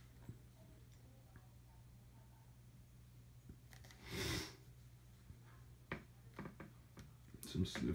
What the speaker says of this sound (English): Some sniffles for ya.